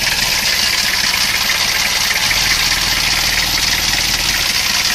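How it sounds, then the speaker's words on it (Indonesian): A Toyota Kijang diesel with heavy blow-by idles loudly and steadily, and a hissing, whining fan belt noise covers most of the engine sound throughout. "Kalau suara ayak ini berasal dari fan bell ya, bukan suara mesinnya."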